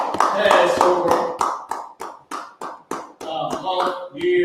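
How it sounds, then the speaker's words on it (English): Several people in a class clap their hands together in a quick run of sharp, separate claps. One voice talks over the clapping. "All right, clap it up."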